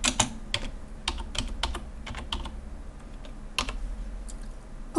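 Keys on a computer keyboard are tapped in irregular, close-up clicks, sometimes single strokes and sometimes quick runs, over a low background hum with no voices.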